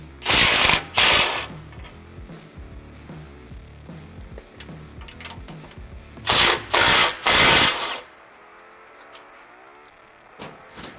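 An impact gun removes two 15mm bolts on a Ford F150 intercooler support, sounding as two sets of loud, close rattling bursts separated by a quieter stretch.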